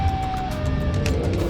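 Siren Head wails in Minecraft with steady, slightly bending siren tones over a dense low rumble. It is loud and continuous for the whole moment, with no talking.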